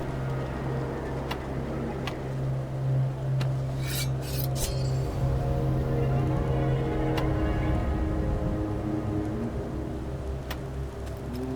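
A blade is drawn across a sharpening whetstone in the game Tails of Iron 2: Whiskers of Winter, with a few rasping scrapes in the middle over steady tonal background music.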